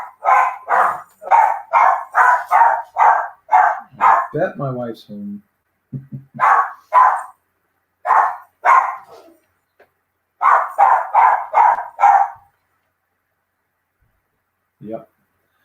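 A pet dog barks in rapid, loud bursts of a dozen or so barks close by, breaking off, resuming twice, and ending with one faint yip; someone speaks briefly between the bursts.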